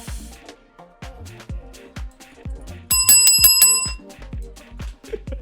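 A bell rings in a quick burst of several bright dings over a rhythmic background beat with thumping bass.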